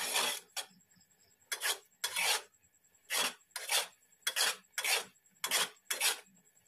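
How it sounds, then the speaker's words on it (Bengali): Chushi pitha rice dumplings being stirred in a thickening sauce in a pot: repeated scraping, rasping strokes in short bursts, about ten in quick irregular rhythm, close and fairly clear, with no talking. "ঘন ঘন নাড়তে হবে, নইলে তলা ধরে যেতে পারে।"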